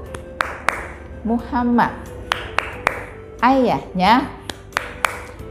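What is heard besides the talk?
children's rhythmic clapping game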